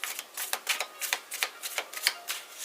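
Rapid riffling of tarot cards, a dozen or so crisp bursts in quick succession, close and fairly quiet with no voices.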